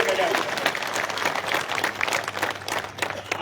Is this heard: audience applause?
yes